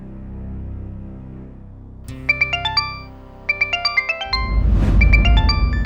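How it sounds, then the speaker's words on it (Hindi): A melodic electronic ringtone plays in bursts of rising tones, repeating several times over a low background rumble that swells louder toward the end. "सूरज जी का फोन है।"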